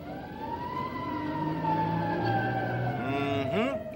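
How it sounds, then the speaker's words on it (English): Fire engine siren wailing in long rising and falling tones, loud and steady with a deep horn-like blare near the end, vehicle rumble underneath and no talk. "That was it. That was a fire engine sound."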